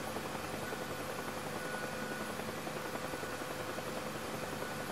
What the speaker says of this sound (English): I want to go to a nice stop here and slowly bring the helicopter down, lowering the collective